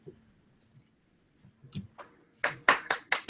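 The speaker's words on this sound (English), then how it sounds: "Applause for Animation." A few scattered claps start softly, then a handful of sharper, louder claps ring out close by in an uneven rhythm, during a live animation stream.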